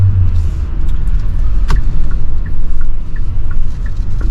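Inside the cab of a new Kia Bongo LPG high-top truck with the engine running, a loud, steady low rumble of engine and road noise fills the cabin, with a few faint clicks and no talking.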